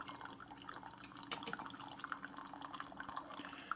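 Hot water from a Keurig K-Supreme Plus coffee maker trickles into a cup, a quiet, close stream with small drips and splashes popping over it at irregular moments.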